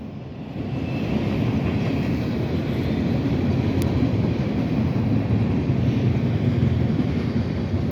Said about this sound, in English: This train is longer than this train is longer than my existence.